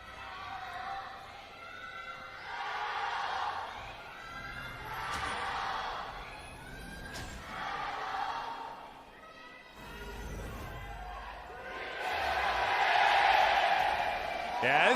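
A crowd of Griffin fans at a Rift Rivals 2019 League of Legends match erupts in cheers, the roar swelling in waves and rising again near the end, with commentators talking over it.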